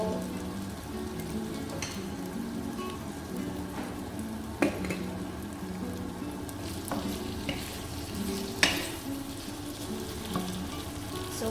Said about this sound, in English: so while these are frying